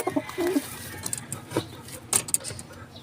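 Pigeons at a nest on a pigeon loft, giving a few soft, low coos in short bursts, with faint higher chirps and light rustling, fairly close and quiet.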